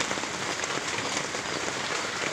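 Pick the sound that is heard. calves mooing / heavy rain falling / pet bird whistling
heavy rain falling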